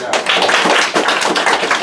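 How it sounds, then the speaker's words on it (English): People at a team meeting give a quick, loud round of applause, with sharp, close hand claps bunched into a dense burst that carries on for a couple of seconds. "Round of applause real quick"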